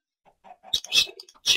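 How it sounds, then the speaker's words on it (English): Chickens in the Minecraft video game give a few short clucks close by, with soft low notes at first, then sharper bright bursts, and no talking over them. "Chicken."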